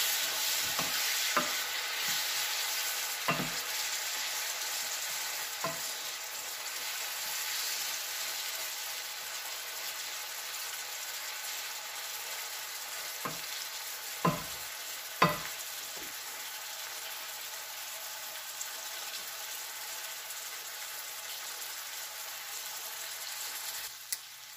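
Steady hissing sizzle of tiger prawns frying with onions in a hot pan, broken by a few sharp scrapes and clinks of a utensil stirring.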